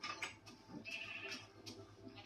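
Sheep in a video game bleat softly and repeatedly over a low mechanical hum, a few faint, wavering calls spread across the moment.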